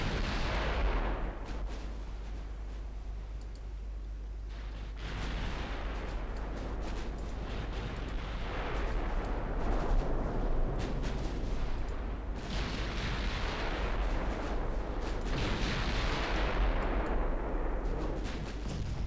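The 15-inch main guns of warships fire in the naval battle game Ultimate Admiral Dreadnoughts as heavy, booming salvos that roll out and decay into a continuous rumbling roar, with several big blasts spread over the stretch.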